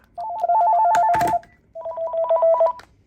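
A Panasonic KX-TGL463 cordless phone rings with a warbling electronic trill in two bursts separated by a short pause, close and clear.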